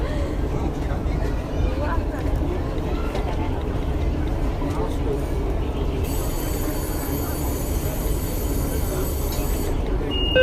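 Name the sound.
Beijing Subway Line 2 train running between stations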